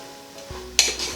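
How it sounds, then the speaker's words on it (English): Red cabbage and black beans stir fried in a pan give a short burst of scraping and clattering with a light sizzle, close and brief. "that's been about 5 minutes of continuous stir frying"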